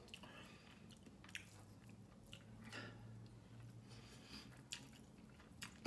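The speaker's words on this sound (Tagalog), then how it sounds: "ito ang una kong subo para sa inyong lahat" Someone chews a mouthful of sweet and spicy chicken adobo, with soft, wet squishing bites and occasional crunchy clicks, close to the microphone in a quiet room.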